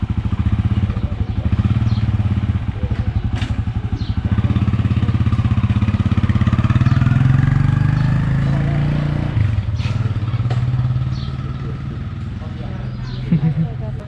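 Rented motorbikes cruise along a road in Laos toward waterfalls, a loud steady engine drone with wind rumble and occasional rattles, voices heard now and then over the ride.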